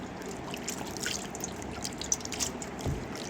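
Water splashes and trickles steadily as a face with makeup on is washed, with a few louder slaps and drips near the end; no one speaks.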